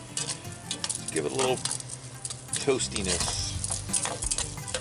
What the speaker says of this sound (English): we want to kind of stir fry the rice a little bit